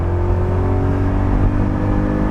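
A BMW Z8 with M5 power, a high-mileage example, accelerating with a steady, loud engine drone and low rumble that holds constant throughout, close and alone.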